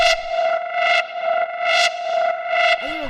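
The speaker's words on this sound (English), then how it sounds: "you can see I'm automating this to go like whoop" Automated filter sweeps on a hard mainroom techno synth, a distorted tone whooshing upward in repeated rising swells roughly every second, loud and alone.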